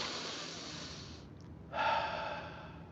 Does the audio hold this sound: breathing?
yes